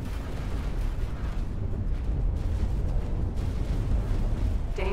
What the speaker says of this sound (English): Like, you're using beam cannons.